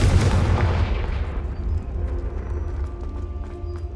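Confringo fire spell cast in Hogwarts Legacy, a loud booming explosive blast at the start that decays into a rumbling tail with scattered crackles.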